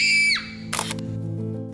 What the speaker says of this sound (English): The release is where we have them look into the camera and we just let them scream.